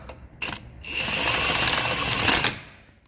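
A ratchet wrench clicks close up while tightening a part on a vehicle's exhaust resonator, a few sharp clicks and then a dense, steady run of ratcheting.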